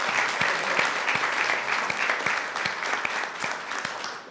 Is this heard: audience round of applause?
yes